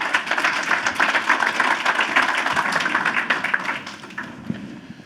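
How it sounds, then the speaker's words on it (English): A conference audience gives a panel at a climate week sustainability event a round of applause, fairly close, uneven clapping that fades out toward the end. "Please give them a round of applause."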